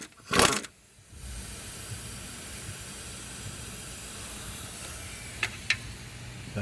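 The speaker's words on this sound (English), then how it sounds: "That steam you see is just from the coolant." Steady hiss of coolant steam escaping from a hot car engine near the radiator during repair work, a continuous broadband rush with a brief louder burst at the start and a couple of faint clicks later.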